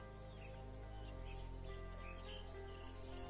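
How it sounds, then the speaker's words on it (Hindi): Birds chirp and tweet repeatedly at a distance around a small farm-side house in quiet Chhattisgarh countryside, faint calls over a low steady background hum. "शायद आपको पक्षियों की आवाज आ भी रही होगी।"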